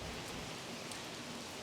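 A downpour of heavy rain at a bus shelter beneath an abandoned railway bridge, a constant broad hiss of drops with no break.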